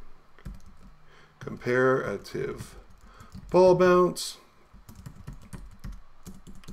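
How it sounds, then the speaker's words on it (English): Someone types on a computer keyboard, a loose run of quick clicks and taps scattered throughout, with a person speaking over parts of it. "nice typing"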